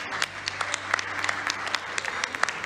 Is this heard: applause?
yes